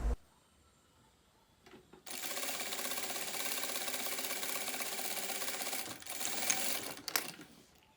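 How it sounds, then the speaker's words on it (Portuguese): After a short quiet start, a sewing machine stitches stretchy elastane fabric for a small handbag, running in a steady, close mechanical whir for about four seconds before slowing and stopping with a few final clicks. "Vou costurar com calma porque o material aqui tem elastano."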